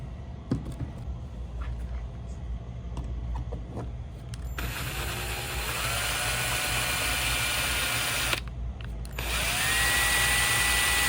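A power drill drives screws into a speaker mount flange, sometimes at an angle; quiet handling noises first, then a loud, close, sustained whine running several seconds, a brief pause, and another run, with no talking.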